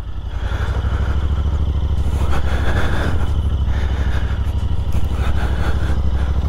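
A Royal Enfield Interceptor 650 carries a rider and passenger along the road with a steady, loud engine drone and constant wind rush, without a break.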